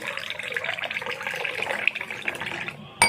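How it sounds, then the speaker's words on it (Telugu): Water splashes and gurgles steadily as it's poured into a glass, ending with a sharp clink near the end. "ఇప్పుడు మనం పోసేసుకున్నాం వాటర్ని"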